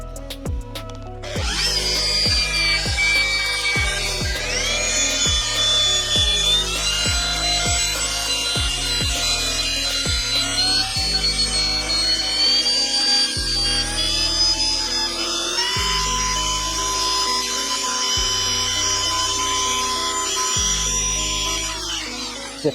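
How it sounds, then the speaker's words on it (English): A machine polisher works Koch Chemie heavy polish into freshly painted panels on a BMW E36, a loud continuous whine that runs without a break, its pitch stepping up and down again and again as the machine is worked. "So I've started polishing this part here, just with the Koch Chemie heavy."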